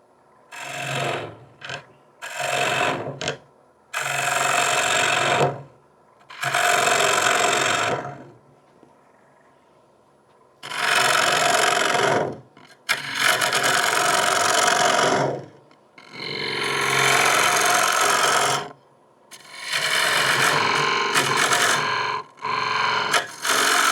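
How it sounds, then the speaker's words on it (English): Woodturning gouges being reprofiled to an asymmetrical grind on a sharpening machine, with repeated bursts of abrasive rasping grind that start and stop several times, close and fairly loud, and no talking. "Let me go sharpen."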